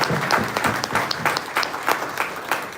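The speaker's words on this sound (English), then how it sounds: "So let's give the sisters a round of applause." A congregation applauds the sisters with dense, scattered hand clapping that holds steady at a moderate level throughout.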